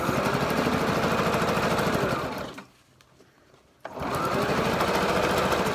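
A sewing machine stitches a fabric mask in a loud, steady, rapid mechanical whir, stops for about a second, then runs again at the same pace.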